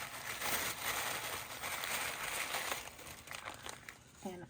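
White tissue paper crinkling and rustling as a craft kit is unpacked, a continuous soft papery crackle close by that tapers off near the end.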